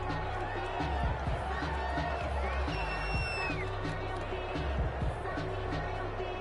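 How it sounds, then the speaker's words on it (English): A home crowd in a football video game roars approval at a penalty call, a steady stadium cheer and murmur held at a constant level beneath game sounds. "This home crowd, they're happy with that call."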